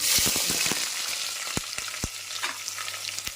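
Onions and green chillies sizzle loudly in hot oil for mushroom biryani, with a bright continuous hiss and several sharp spatula clicks against the pan at irregular intervals.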